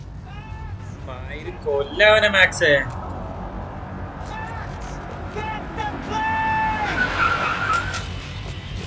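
A skidding car squeals its tires during a frantic chase in Max Payne 3, with repeated screeching bursts over engine rumble while voices shout over it.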